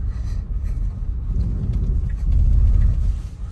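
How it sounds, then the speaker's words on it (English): A car rumbles past close by, heard from inside a Tesla Model Y, its low engine noise swelling toward the end over steady background hum. "You got a car coming down here now."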